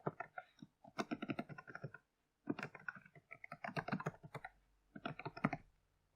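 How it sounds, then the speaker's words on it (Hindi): Typing on a computer keyboard while entering a website URL: quiet, rapid clusters of key clicks in four bursts separated by short pauses, with no talking. "मैं यहां पर अपनी वेबसाइट टाइप कर लेता हूं।"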